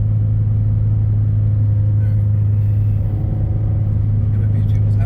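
A turbocharged FRS car at full throttle on city streets, its engine a steady loud droning rumble heard from inside the cabin, holding constant throughout.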